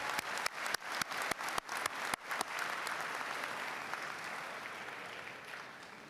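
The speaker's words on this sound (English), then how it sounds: "Let's give a round of applause for all the people who are here supporting the graduates" Commencement ceremony crowd applauding, opening with several sharp, loud distinct claps that merge into sustained, steady applause which gradually fades, no voices over it.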